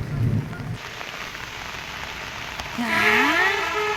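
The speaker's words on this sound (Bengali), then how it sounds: "বৃষ্টি কিন্তু এখন পড়ছে জোরে জোরে" Heavy rain pours steadily onto a rooftop during a storm, a dense continuous hiss close by, with a brief low rumble at the start and a faint tonal sound rising near the end.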